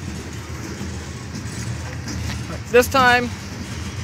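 Canadian National freight train 2502 rolls past a grade crossing in Effingham, Illinois, a low, steady rumble throughout, with someone briefly speaking near the end.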